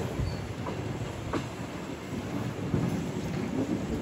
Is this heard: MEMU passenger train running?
yes